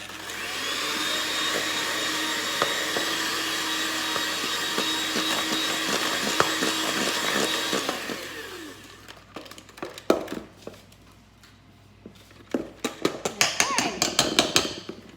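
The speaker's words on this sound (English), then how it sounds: "I'm using just a hand mixer here." An electric hand mixer whirs loudly and steadily for several seconds mixing honey cake batter, then stops, followed by clattering taps and knocks of utensils against a bowl.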